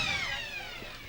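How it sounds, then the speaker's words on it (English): A loud, sustained siren sounds to mark three-quarter time at a local Australian rules football match, Werribee Centrals against Bell Post Hill, with a steady, slightly wavering tone that fades a little. "out of bounds as the siren sounds for three-quarter time."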